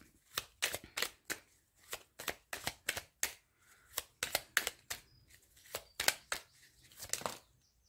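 Oracle cards being shuffled by hand in a quick run of crisp, papery riffles and slaps, close and fairly soft, with short pauses between bursts and no talk.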